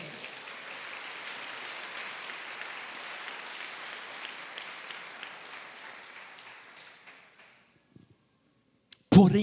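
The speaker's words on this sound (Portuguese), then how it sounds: "dê um aplauso ao Senhor" Congregation applause at a Sunday morning church service, a dense wash of clapping that gradually thins and fades out over several seconds before a brief sharp noise at the end.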